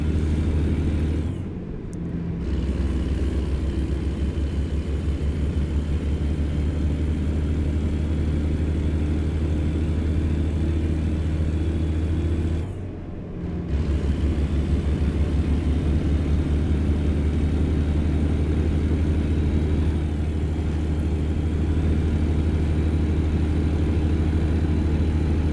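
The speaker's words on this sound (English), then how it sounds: "I do love the engine sounds on this mod." A heavy truck engine in American Truck Simulator, a modded Freightliner-style rig, drones in a constant low rumble while cruising, with two brief dips like gear shifts, loud and unbroken.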